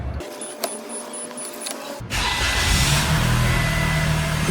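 A 2025 Toyota Corolla engine starts with an abrupt onset, then settles into a steady, fairly loud idle hum that continues to the end.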